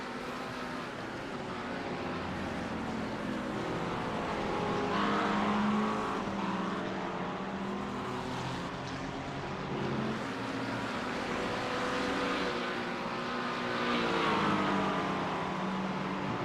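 Race car engines in an iRacing sim race at Spa during the 24 Hours event, a steady loud drone of engine tones that rise and fall as cars accelerate and shift, continuous throughout with no talk.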